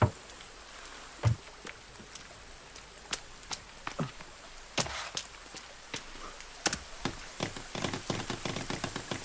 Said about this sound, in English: Oh my god, this rain is loud!